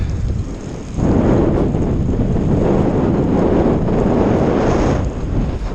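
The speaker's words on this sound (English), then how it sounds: "It's quite windy as well." Strong wind buffets the microphone with a loud, continuous roaring rumble that gusts harder after the first second, with no voices, near the river at Broad Chalke during a 200 km audax cycling event.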